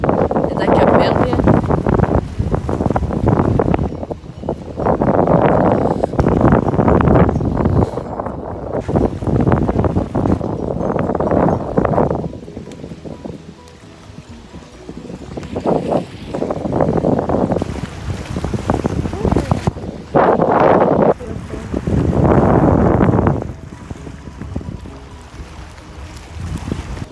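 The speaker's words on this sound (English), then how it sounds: "So satisfying how the sound of the lake is." Wind buffets the microphone beside a lake, with lapping water and a boat nearby, a loud, steady roar that swells and dips throughout.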